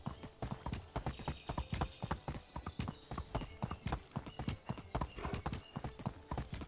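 Horse hooves clip-clop at a steady walking rhythm in the Medieval Dynasty video game, the regular hoof beats close and fairly quiet, carrying on throughout with no talk.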